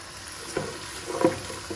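Onions frying in a pan toward light golden for turnip chicken, a soft continuous sizzle with a couple of brief louder stirring scrapes, close but low in level.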